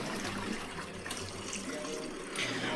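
Water runs steadily into the rinse tank of a Costway twin tub washer and spinner, a constant close broadband rush with a low hum underneath, continuing without a break throughout.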